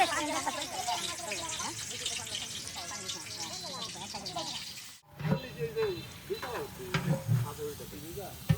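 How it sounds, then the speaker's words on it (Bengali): Meat frying in a pan for an iftar meal with friends, a steady sizzle and crackle under ongoing conversation, broken by a brief silence before the frying and voices resume. "ও গোস্ত আগে ভাইজা নেব"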